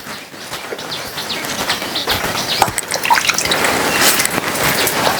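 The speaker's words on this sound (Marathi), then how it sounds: "याच्या तोंडावर पाणी मारी" Water splashing and dribbling close by as it is splashed onto a man's face, a continuous wet spatter with a few sharper splashes toward the end.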